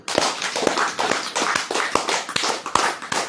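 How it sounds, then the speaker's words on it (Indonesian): A crowd claps steadily for a few seconds, a dense patter of many hands with sharper individual claps standing out, no voices. "Tepuk tangan."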